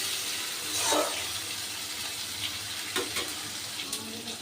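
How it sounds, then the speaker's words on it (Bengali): Onion and chopped tomato frying in a pan make a moderate sizzle, broken by several short clatters and scrapes of stirring, with no voices. "টমেটোর সাথে পেঁয়াজগুলোর সাথে একটু ভালো করে ভেজে নেব।"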